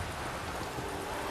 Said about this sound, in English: Having that rain just go over that field